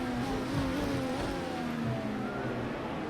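An IndyCar engine in Project CARS 2 at COTA drops down through the gears into first: a loud, continuous racing-engine drone whose pitch sags gradually, steady and close, with no voices.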